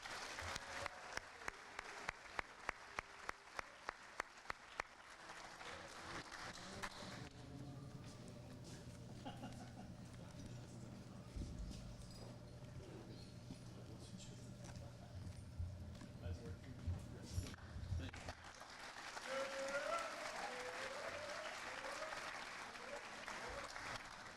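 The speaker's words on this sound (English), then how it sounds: "Let's give him a round of applause, guys." A round of applause for a graduate at a graduation ceremony, starting with sharp individual claps that swell into crowd clapping, then fading as speech takes over before more clapping returns.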